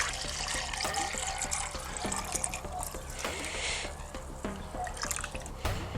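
A water/methanol mixture is poured from a half-full container into another vessel, making a steady liquid trickle and dripping with faint clinks throughout, close by and without voices.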